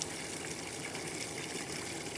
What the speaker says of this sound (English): Gotta try to get this water in this container.